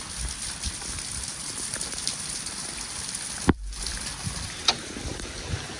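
Steady rain during a days-long monsoon downpour in Gujarat, a continuous dense hiss of drops with a brief break partway through and scattered louder drips, heard without any talk.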